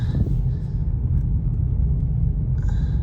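Low rumbling drone of a 2022 Ford Maverick with transmission problems driving along a road, a steady close cabin rumble with faint shifts in tone and no talking.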